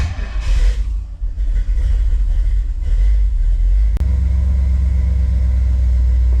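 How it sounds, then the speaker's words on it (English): A Chevy C30 squarebody truck fitted with a swapped 4L80e transmission rolls off with a loud, close, low engine rumble that deepens and steadies after a brief knock partway through. "Woohoo! It moves."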